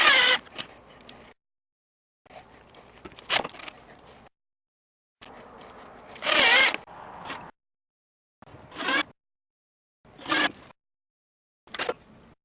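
Post brackets for an RV porch cover being screwed down at four points, heard as separate bursts of a whirring driver with sharp bright bites and pauses between them, close by and with no talk.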